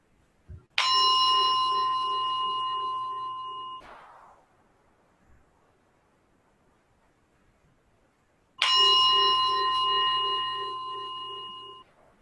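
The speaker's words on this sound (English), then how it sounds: "in a moment, you'll hear the bell. Just allow the sound of the bell to be heard" A meditation bell rung twice to close a yoga practice, each strike a clear sustained metallic tone with bright overtones that rings for about three seconds and fades into silence before the second strike.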